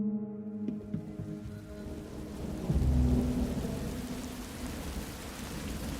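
Steady rain pours throughout, with a deep rumble of thunder swelling up midway and rolling on beneath the downpour.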